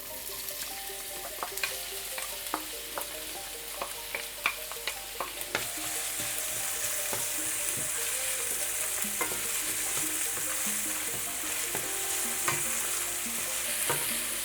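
Onion fries in hot oil in a pan, with a steady close sizzle and scattered scraping clicks of stirring; the hiss swells louder partway through and continues with no talking.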